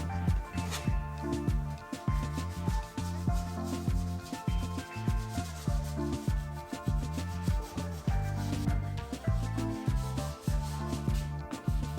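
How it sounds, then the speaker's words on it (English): A sharpened scraper working glued plastic protection film off a van panel during a Sprinter camper conversion, giving repeated rhythmic scraping strokes, close and steady, with rasping textured pulses throughout. "a sharpened scraper on glued plastic protection film is much more effective than a blunt one"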